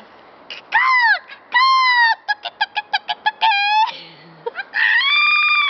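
A person imitating bird calls in a park: loud close whooping and warbling cries, a run of quick rhythmic yelps, then long sliding hoots, all made by a human voice.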